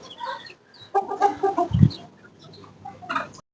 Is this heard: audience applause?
no